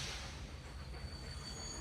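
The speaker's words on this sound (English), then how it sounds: "The train squealed to a stop in Tarmstead at 4 p.m." Railway carriage in a wartime prisoner train rolling to a halt at Tarmstead, with a steady loud rumble of wheels on track and thin high squealing tones running throughout, with no voices.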